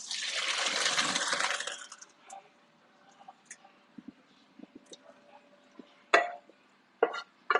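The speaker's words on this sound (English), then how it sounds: "Right now, I'm just gonna drain the pasta." Boiled macaroni water pours out in a loud rushing gush for about two seconds, then sparse drips, trickles and clinks of the pot and colander follow, close by in a kitchen.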